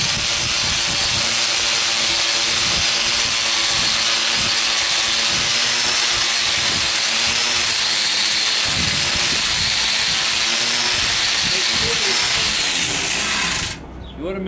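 An angle grinder fitted with a stripping disc works over a rusty table outdoors, a loud steady whirring grind that runs continuously before cutting off at the very end.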